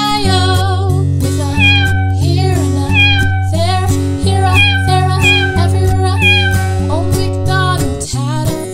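Repeated loud cat meows ride over a bouncy farm-animal nursery rhyme backing track, each meow rising and falling in pitch, steady and prominent throughout.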